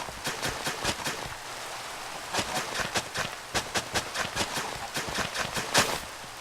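Rain in the Minecraft modpack FTB Revelation patters steadily. Sharp, irregular clicks and taps ride over it, and there is no talking.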